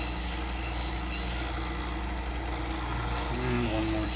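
A file or sharpening stone rasping along the tip of a scissor blade during shear repair, a continuous close scraping rub with a light, steady pressure and a faint tonal ring near the end.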